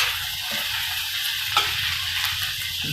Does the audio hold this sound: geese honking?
no